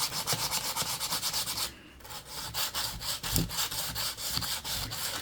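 A wooden craft piece being sanded smooth by hand, with steady, close back-and-forth rasping strokes that pause briefly near the two-second mark before resuming.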